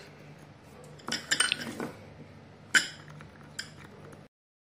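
Colored bath salts stirred in a bowl, giving a few bright clinks and scraping rattles in two short bursts, close and fairly quiet with no talk.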